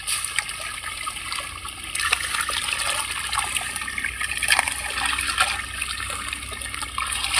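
Water flows and trickles steadily with a splashy, continuous rush, heard close by with faint background sounds.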